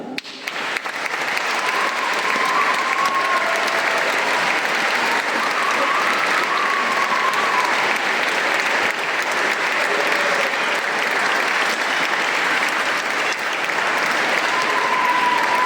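Sustained, dense applause from a concert audience honoring the musicians of a brass band (fanfare) at the Bravade de Fréjus, filling the space steadily and evenly throughout.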